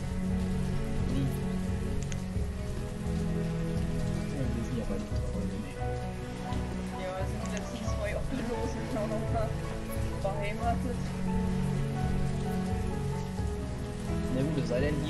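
Steady rain falls in the city-building game Banished, a dense, even patter on surfaces that continues throughout while someone talks over it.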